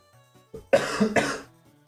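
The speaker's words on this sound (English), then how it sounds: "I can't stop coughing" A person coughs twice in quick succession, two sharp, close bursts over a quiet, low background hum.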